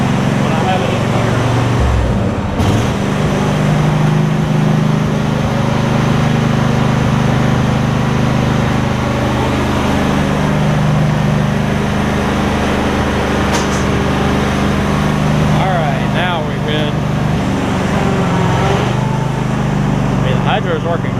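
A Husqvarna riding mower's Briggs V-twin engine runs steadily, a loud, even low drone that holds throughout with little change.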